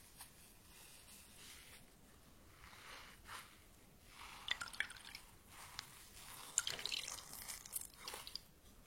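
Water drips and trickles softly close by during a quiet Korean skincare spa rinse, with faint wet splashes and squishy patting that grow busier toward the end.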